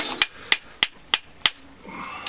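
A hammer strikes metal while electric motors and their windings are scrapped: five sharp, evenly spaced close blows about a third of a second apart, with faint clatter between.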